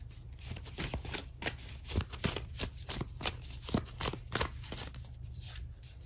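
Tarot cards being shuffled by hand, a close, quiet series of repeated riffling bursts in an irregular rhythm with no talk.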